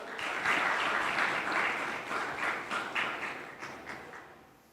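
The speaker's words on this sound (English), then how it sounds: "Can we please give a warm hand to our moderator for this particular session, Mr. Noah Kipkemboi?" An audience at a film and TV festival session applauds to welcome a moderator, a loud burst of dense clapping that fades gradually toward the end.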